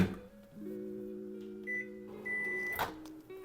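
A microwave oven runs while heating coconut cream for vegan chocolate ganache, a steady hum with fan drone and a few brief high beep-like tones, heard up close with no talk.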